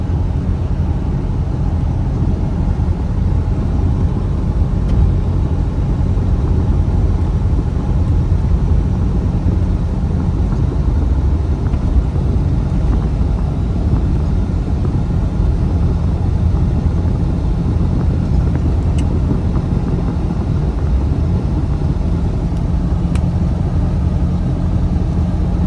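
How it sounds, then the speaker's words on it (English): Steady interior road noise from a car driving over a road with very deep crowns: a continuous, loud low rumble and tire roar that holds evenly throughout, with no talking. "this road has very deep crowns in it, which often affects how well a vehicle tracks"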